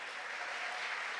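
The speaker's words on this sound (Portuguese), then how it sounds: "Então recebam com a salva de palmas" Brief audience applause at a state culture conference, a steady wash of clapping heard from a distance with no voices.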